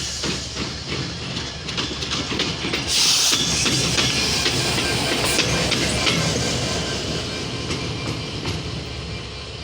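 An intercity train pulls into Parbatipur Junction with a loud, steady rumble and rhythmic clatter of wheels over rail joints, plus a brief hiss of air near the middle, no talking.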